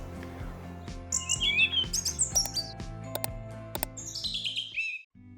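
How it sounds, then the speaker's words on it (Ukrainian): Small forest birds, siskins, tits and a female chaffinch, chirp and twitter in bright rapid bursts near roadside puddles in October woodland, several calls overlapping over a low steady background hum. "Тут я помітив чижів, гаєчок та самиця зяблика, що порпалась поруч у листі."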